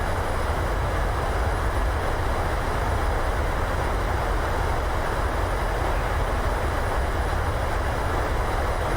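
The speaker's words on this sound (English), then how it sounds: "Take center line. Reversers are out." Thrust reversers deploy on a Boeing 737-800 during landing in a flight simulator game, a loud, dense, continuous engine roar that holds steady throughout without pause.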